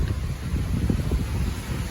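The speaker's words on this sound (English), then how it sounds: "It is hardly raining at all anymore, but it is windy." Steady wind from Hurricane Ian in Central Florida buffeting the microphone, a dense low rumble with gusty fluctuations and no voices.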